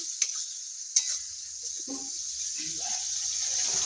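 Dried-fish chutney is stirred in a pan after water is added, a soft steady sizzle with two sharp utensil scrapes early on and light clinks under a faint background hum.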